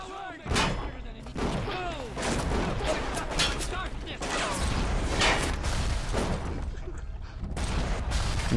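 Rapid gunfire and heavy impacts in the video game Bioshock, loud and dense throughout, with bursts of shots, crashes and sweeping effects, while someone talks over part of it.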